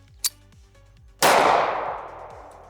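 A Beretta M1934 pistol fires at a target outdoors: one sharp distant crack early, then a loud close report with a long ringing decay, no talk.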